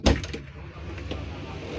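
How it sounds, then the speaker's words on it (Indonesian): The rear swing door of an Adiputro JetBus 5 MHD bus opening with a sharp clack at the start followed by faint rattles and a low steady background hum. "ini ada pintu belakangnya, kita akan videokan bagaimana bukanya"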